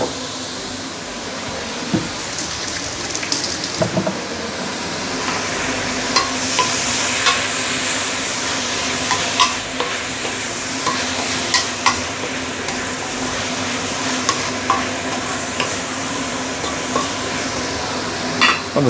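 Roast pork and leeks stir-frying in a hot pan, with a continuous loud sizzle and crackle broken by scraping spatula strokes throughout, no talking.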